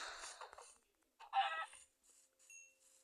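A few quiet clucks and squawks from a chicken in Minecraft, short and isolated with gaps of near silence between them, thin and game-like.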